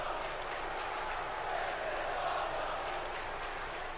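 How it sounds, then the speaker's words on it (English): Arena crowd in the WWE 2K19 wrestling game roaring and chanting after a chokeslam through the announce table, a steady, dense wash of voices filling the whole stretch at moderate loudness. "And the crowd loves it. Chanting, "This is awesome.""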